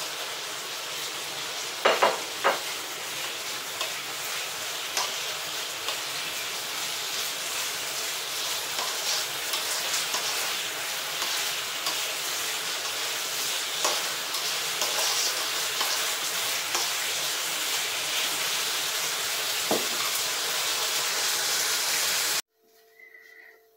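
Onion stir-fries with sliced pork and vegetables in a hot pan, giving a loud, steady sizzle throughout, with occasional scraping stirs and clatters before the sizzling suddenly stops at the end.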